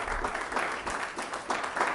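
A church congregation claps in a steady wash of applause, dense and moderately loud, with swells of clapping rising and falling and no clear voices on top.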